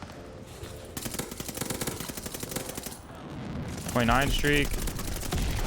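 Rapid automatic gunfire from an M1928 submachine gun in Call of Duty: Vanguard, sustained bursts of dense repeating shots at close range, broken by a short pause, with a player talking over the firing near the end.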